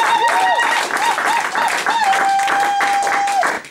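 A church congregation applauds and cheers in worship, with clapping continuing throughout while a sustained voice or tone holds and bends over it, and crowd noise rises and falls.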